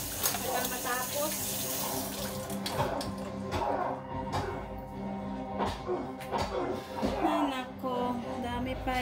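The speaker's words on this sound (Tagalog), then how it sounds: "Pag magbanlaw na" A kitchen tap running steadily while dishes are rinsed by hand, water splashing and gurgling loud and close throughout, with a person talking over it.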